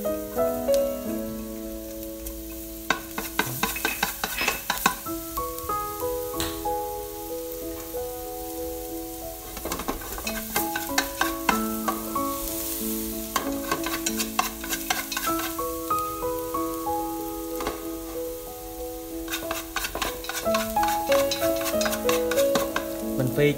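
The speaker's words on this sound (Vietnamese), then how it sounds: "Rồi sau đó thì mình sẽ cho vô đây một ít tỏi băm nha." Minced garlic sizzles and crackles in hot oil as it is stirred for a Vietnamese papaya and pork bone soup, a steady frying hiss with scraping stirs and faint background music.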